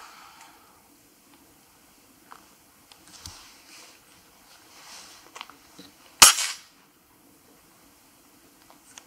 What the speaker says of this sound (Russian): Вот можно стрельнуть по дереву.